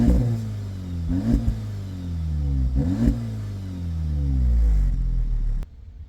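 A stock Audi S3 engine, subdued and mellow, revs up in three or four rising surges before dropping to a steady hum. It cuts off abruptly near the end, with no talking.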